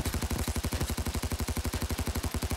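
Rapid automatic gunfire in the video game Payday 2, a fast, even, continuous burst of shots at close range.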